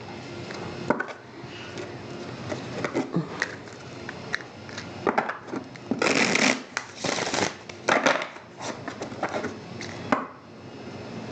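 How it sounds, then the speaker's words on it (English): Tarot cards are shuffled in several quick riffling bursts, separated by short pauses and soft handling noises. "we're going to give the cards a few shuffles"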